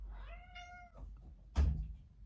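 A pet cat gives one drawn-out, wavering meow, close and soft, then a dull knock or thump follows in a quiet room.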